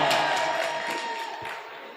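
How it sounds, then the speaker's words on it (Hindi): Applause and cheering rise from an audience at an Amir Meeruthi poetry recital, a dense wash of clapping with scattered whoops that stays loud at first and slowly thins over two seconds. "एक बार इनके लिए जोरदार तालियां"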